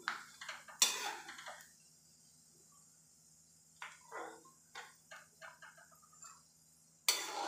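Metal pot scraped and clattered with a spatula while fried semolina (rava) is moved into another vessel during modak preparation, several short scraping bursts with quiet gaps and a steady background hum.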